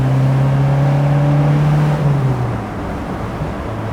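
A 1987 Alfa Romeo Spider's engine, rated about 119 horsepower, revs loudly up close with a steady high drone that dips and settles after two seconds, no voices over it.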